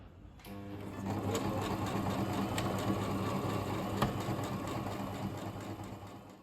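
A sewing machine stitches obi fabric, starting after a brief pause and then running in a steady, fast mechanical whir with faint clicks until it stops near the end.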